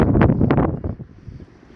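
Wind blows at a hilltop shrine, hitting the microphone in loud, rough buffeting gusts that ease into a softer, steady rush.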